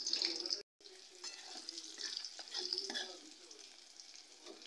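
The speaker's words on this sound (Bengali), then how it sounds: "আমি সামান্য কালো জিরে ফোড়ন দিয়ে দিলাম আর কাঁচা লঙ্কা ছিঁড়ে দিলাম" Nigella seeds and torn green chilli sizzle in hot oil, a steady close frying hiss with a brief break, a few faint clinks over it.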